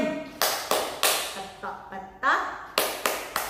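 Children in an Indonesian classroom clap along in a rhythm game, a string of sharp, evenly spaced claps with short gaps between them. Voices chant between and over the claps.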